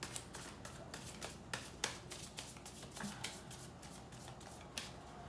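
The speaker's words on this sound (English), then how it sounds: "One more shuffle, and I take from the top and bottom." Tarot cards shuffled by hand, a rapid continuous run of crisp riffling slaps close to the microphone, steady throughout with no talking.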